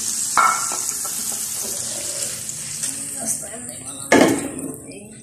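Fish goes into a hot cooking pan amid a steady sizzle, with a loud hissing burst near the end as more pieces hit the oil; a voice murmurs faintly in the background.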